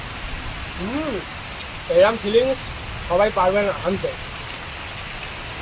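Steady rain patters on a thatched mud-roofed shelter throughout while a person talks over it.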